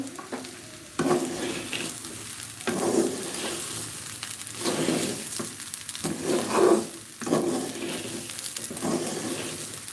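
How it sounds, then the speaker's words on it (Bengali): Rice frying in a pan with salt for pulao, stirred in repeated scraping strokes over a continuous moderate sizzle, each pass of the spoon rising briefly above the frying, with no voices. "চালটা এভাবে নাড়াচাড়া করে ভাজতে ভাজতে যখন দেখবেন যে একটু ভারী হয়ে আসছে"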